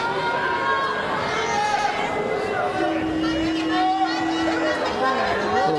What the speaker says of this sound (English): You can hear calls from the crowd to stand them up